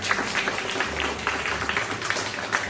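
A group of children claps steadily and fairly loudly in continuous applause, with a low hum in the background, at a gurukul school.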